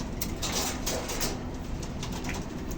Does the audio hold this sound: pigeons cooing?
yes